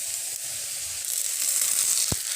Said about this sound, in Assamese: আলুখিনি অকণমান ভজা হৈ গৈছে আৰু এতিয়া মই দিম সজিনাৰ পাতখিনি